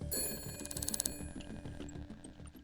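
An old-fashioned telephone bell rings in the detective video game Shadows of Doubt: a rapid metallic trill in one burst, then sparser tinkling over a low background hum, moderately quiet and with no talking.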